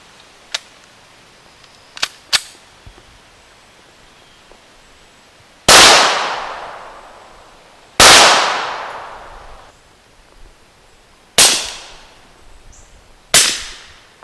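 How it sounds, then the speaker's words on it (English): Pistol shots with subsonic ammunition, two loud unsuppressed reports with long ringing decays followed by two quieter cracks through an AAC Illusion9 suppressor, preceded by a few small metallic clicks. "Just want to demonstrate the difference between with and without silencer with subsonic rounds."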